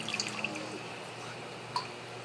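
A hydroponic siphon drains water from a grow setup, giving faint, irregular drips and a soft trickle against a quiet background hum, with one slightly clearer drip near the end.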